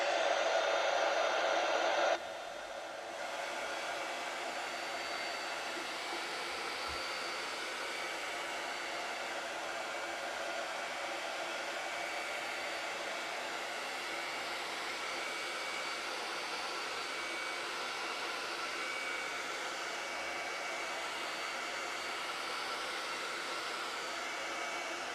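A hair dryer blows steadily on a chalk-paste screen stencil, its broadband whoosh starting loud, easing slightly after a couple of seconds, then holding an even, continuous roar for the rest of the time with no talk.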